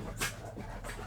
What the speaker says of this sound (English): Those dogs are extremely helpful.